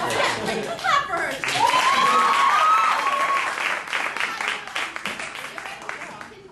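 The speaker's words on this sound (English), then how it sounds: "Clap for her." A stage-show audience bursts into loud, dense applause, a steady wash of many hands clapping together with a whistle and cheers rising over it, then gradually thinning out and fading.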